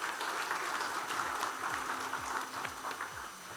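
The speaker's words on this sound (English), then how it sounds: "Let us give him a round of applause" Seminar audience applause at a trade finance event, a moderate wash of clapping from a crowd, fairly distant and steady for a few seconds.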